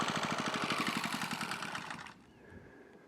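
Small trimmer mower engine idling with a fast, even putter that abruptly drops away after about two seconds as it shuts off, leaving faint background noise.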